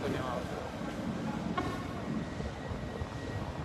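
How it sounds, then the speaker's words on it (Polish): A train pulls into a station with a loud, continuous rolling rumble, high wheel or brake squeal running through it, close by and steady throughout. "Wjechał pociąg do tych lodowisk."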